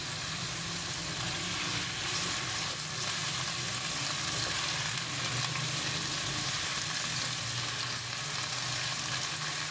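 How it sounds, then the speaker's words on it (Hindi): Potatoes frying in a pan with fifteen small green chillies halved through the centre, a loud, dense, unbroken sizzle of hot oil sustained close up for the whole stretch. "अब इसके अंदर मैं डाल दूँगी ये सब्ज़ मिर्चें हैं 15 अदद छोटी हाफ की हुई हैं सेंटर से, इनको इनके साथ ही फ्राई कर लेंगे"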